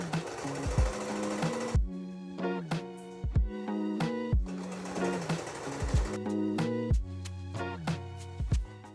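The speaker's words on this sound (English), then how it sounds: "I'll quickly rethread the sewing machine." A sewing machine stitches a leopard print tote bag in rapid, even bursts of mechanical whirring. Sharp clicks and thumps fall between the runs, and the sound is close and clear, with no voices.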